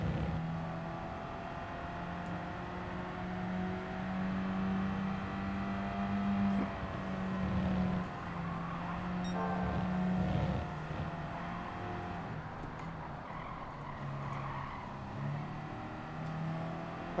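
A European classic compact car racing in Gran Turismo 7, engine droning steadily as it accelerates out of a corner and upshifts, pitch climbing and dropping with each gear over about seventeen seconds.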